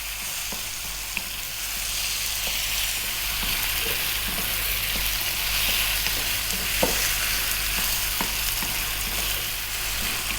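Chicken coated in garlic ginger paste, turmeric and salt frying in a pan for an Indian curry, a steady close sizzle throughout with faint intermittent scrapes of a utensil stirring, and no talking.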